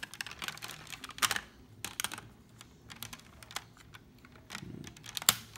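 Plastic clips on a Thunder Megazord toy snap into their tabs, a scattered series of small sharp clicks and taps with irregular spacing, close and quiet, no speech.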